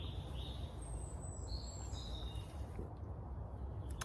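Birds chirp and sing in overgrown brambles and blackberry bushes around an old abandoned house, the high calls scattered and fairly faint over a steady outdoor background hiss.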